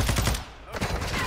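An anti-air LMG fires in Call of Duty: Modern Warfare II multiplayer, loud close bursts of rapid shots, a brief gap, then another burst.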